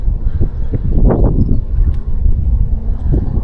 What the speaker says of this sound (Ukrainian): Пориви сильні.